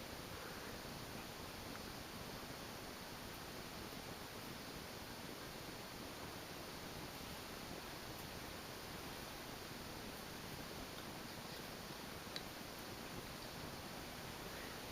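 A 1980 4 Saisons 36-inch ceiling fan runs quietly, giving off a faint, even, steady hum and airy hiss that holds without change throughout, with no voices.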